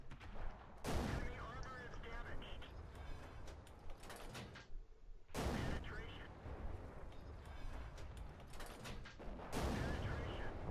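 Tank cannons fire in the World of Tanks video game, with three heavy booming shots spaced a few seconds apart over continuous engine and battle rumble, while someone talks over it.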